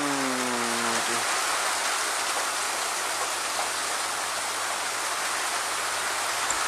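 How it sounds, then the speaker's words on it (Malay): Steady rain pours down continuously, a dense broadband hiss that fills the whole stretch at close range, with a brief low hum fading in the first second and no talk over it. "Sedap juga hujan dah."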